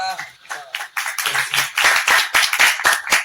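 Audience clapping at a Hindi poetry recital, a burst of scattered hand claps rising into fuller applause that continues under a voice speaking.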